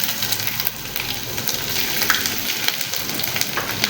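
Garlic ginger paste fries in a pot, a loud, dense, close sizzle that crackles and hisses without pause, no voices.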